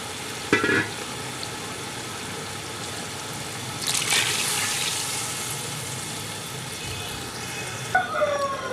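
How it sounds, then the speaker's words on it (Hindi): Beef yakhni broth is poured into a hot cooking pot for pulao and sets off a bright hissing sizzle that swells midway and settles into steady bubbling, close by with clinks of utensils. "फिर यखनी शामिल करेंगे।"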